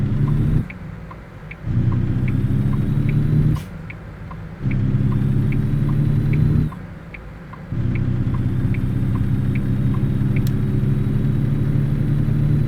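A truck engine in the American Truck Simulator driving game drones steadily with a low rumble, dropping out briefly several times as gears shift, then returning; faint rhythmic ticking runs along the top throughout.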